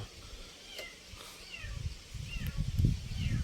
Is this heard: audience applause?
no